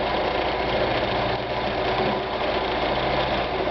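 A sewing machine quilting a quilt runs at a steady, even pace with a dense mechanical whir and rapid stitching rhythm, loud and close and uninterrupted, with a very brief dip in the middle.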